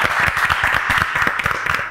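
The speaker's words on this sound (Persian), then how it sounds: "تشویق کنین" Studio audience applause on an Iranian TV quiz show, a dense, steady burst of many hands clapping for about two seconds, close and loud with no talk.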